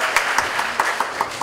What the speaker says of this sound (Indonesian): Tepuk tangan, selamat Gamal